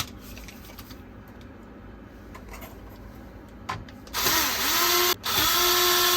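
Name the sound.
power screwdriver removing NAS motherboard screws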